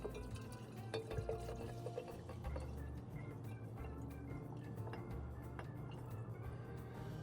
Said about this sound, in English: pour your tequila on top